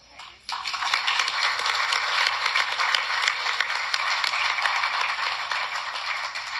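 A room applauds standing American High School students at a Miami-Dade aerospace event. Thick, even clapping starts abruptly after a brief quiet moment and keeps going at a steady level to the end.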